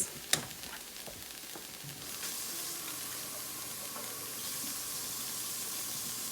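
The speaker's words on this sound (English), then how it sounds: "let's add some more water to this." Water poured into a pan of vegan butter chicken sets off a sharp hiss, followed by steady, loud sizzling and bubbling that continues close up with no talking.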